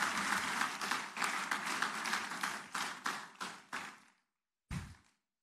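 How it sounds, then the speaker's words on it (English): Audience applause at a university inaugural lecture, loud and steady, then fading in waves of dense clapping before breaking off, followed by a brief final burst of claps. "let's keep the applause going"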